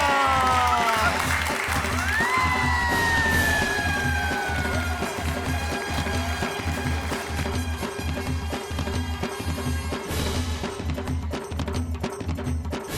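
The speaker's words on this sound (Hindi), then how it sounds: "इसी बात पे तालियां हो जाए।" An audience applauds during a balloon-popping game in a Hindi comedy show, rhythmic clapping mixed with bright rising and falling musical tones, moderately loud and continuous.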